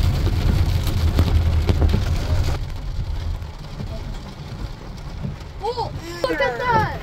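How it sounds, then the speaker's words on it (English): Heavy rain pours steadily during a drive through a storm with hail, a dense wash of water noise filling the clip, loudest in the first few seconds, while people talk excitedly over it. "That's a lot of water. It's really cool. And lots of rain."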